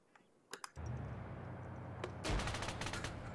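Automatic gunfire from the video game ARMA 3, a quiet clicky burst followed by a sustained, denser volley of rapid shots near the end.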